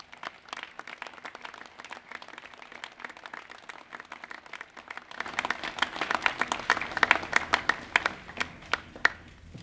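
A small audience at a City of Irvine press conference claps, scattered sparse claps at first that swell into fuller, louder applause halfway through, a room-sized group rather than a large crowd.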